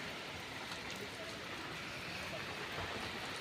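Heavy rain pours steadily onto a street, a dense, even wash of hiss and patter heard from close by, with no talk over it.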